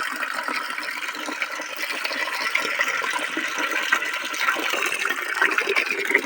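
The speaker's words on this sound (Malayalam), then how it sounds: "ബക്കറ്റിലേക്ക് കുറച്ച് വെള്ളം എടുത്തിട്ട് അതിനകത്ത് ചാണകം വയ്ക്കും" Water pours into a bucket in a steady, rushing gush that keeps running without a break and grows slightly fuller toward the end, with no talking over it.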